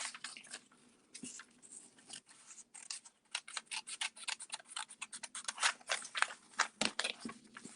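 Scissors snip through a decorator's foam roller to cut out a printing shape, giving a run of close, crisp snipping and crunching cuts that grow steadier and louder toward the end, with no talk.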